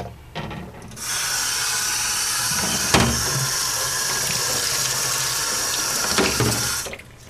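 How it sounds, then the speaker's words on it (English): Water runs from a tap into a sink while a small spoon is sanitized for home brewing hard apple cider, a steady loud splashing stream that starts after a second and cuts off near the end. "and sanitize this little spoon."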